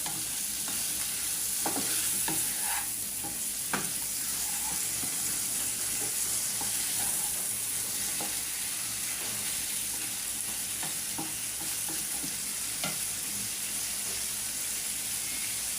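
Small fish frying in a pan, a soft continuous sizzle under repeated scraping strokes of a spatula stirring them, fairly quiet and close with no talking.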